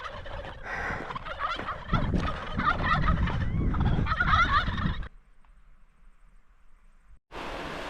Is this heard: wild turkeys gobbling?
yes